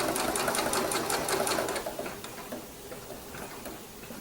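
Sewing machine running a blanket stitch along quilt binding, a fast rhythmic ticking clatter that is strongest at first, then slows and softens into sparser stitches.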